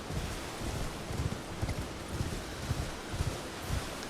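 Horse hooves clop at a steady gait in Elden Ring, a quiet rhythmic series of soft thuds over faint wind and ambient rustle, with no voices.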